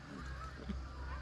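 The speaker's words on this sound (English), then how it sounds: "here comes a squadron of geese" A squadron of geese honks faintly in the distance over a low rumble of open-air background noise, with a few scattered calls and no clear speech.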